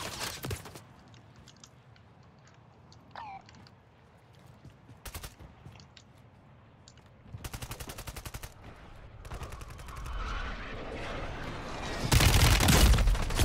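Gunfire in Call of Duty Warzone: scattered single shots early, then rapid bursts of automatic fire around the middle, building to loud, dense shooting and booms near the end.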